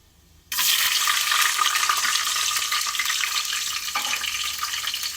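Green chilies drop into hot oil with cinnamon, cloves and cardamom for upma, bursting into a loud, sudden sizzle that holds steady and close, hissing bright and continuous with one brief dip partway through.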